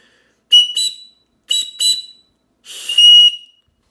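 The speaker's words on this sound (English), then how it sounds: "let's take this thing out and give it a blow real quick" Three loud, shrill blasts from a survival whistle sound in quick succession, each short and piercing, with silence between them.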